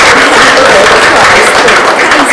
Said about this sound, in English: With a big round of applause